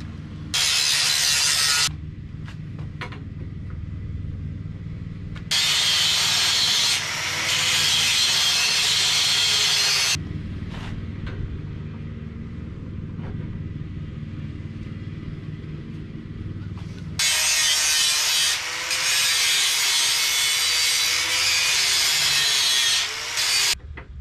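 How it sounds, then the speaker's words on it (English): A power grinder working a metal piece for a welded trailer jack stand, in long loud bursts of harsh whirring separated by quieter stretches of a low idling rumble. "I'm going to grind this down bit by bit until this fits just inside."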